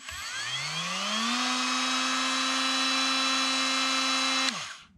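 A Milwaukee-style cordless power tool running off an adapted Makita battery spins up with a rising whine, holds a steady high-pitched motor drone for several seconds, then cuts off abruptly and winds down.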